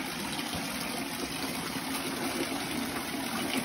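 Water pours without pause from bathing spouts at the Beji temple bathing place in Bali, a steady, even gushing and splashing at moderate distance.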